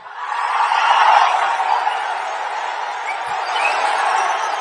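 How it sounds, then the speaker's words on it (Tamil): A large crowd at an outdoor political rally in Pomarapalayam cheers and roars in a dense, steady wash of voices, loud and sustained, swelling early before holding level. "பொமராபாளையத்தில் நடைபெற்ற கூட்டத்தினுடைய ஆரவாரம் செவிய தொலைச்சிக்கிட்டு போகுது"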